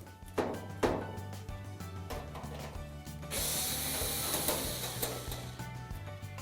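Screw being backed out of a clothes dryer's top mounting bracket, a run of ratcheting clicks and small metallic knocks with a louder, busier mechanical stretch in the middle, close and fairly quiet, no talking.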